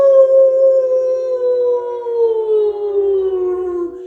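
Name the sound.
people imitating a wolf howl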